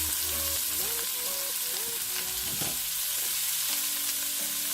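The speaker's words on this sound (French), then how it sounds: "On passe à la cuisson de nos choux." Cabbage stir-frying in a sauté pan for vegetable fried noodles, with a steady hiss of sizzling under repeated scraping and clattering of a utensil against the pan, and no talking.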